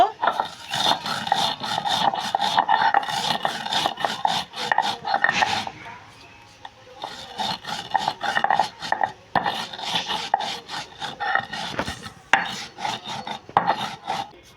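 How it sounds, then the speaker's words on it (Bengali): Five-spice seeds for mango pickle are crushed on a flat shil-nora grinding stone, the stone rubbing and rasping in long repeated strokes, close and fairly loud, with a brief pause partway through and no talking. "এখন শিলনোড়ায় বেটে নেব 5 ফোড়নগুলো, গুঁড়ো করে নেব।"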